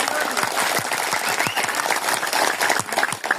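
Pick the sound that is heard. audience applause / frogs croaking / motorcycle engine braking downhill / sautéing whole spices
audience applause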